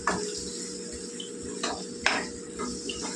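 A spoon scraping and clinking in a pan while prawn tomato curry with chili powder is stirred, producing a few distinct metallic knocks over a low steady hum and light sizzle.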